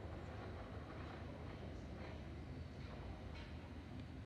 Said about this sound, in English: Okay, we've got a freight train.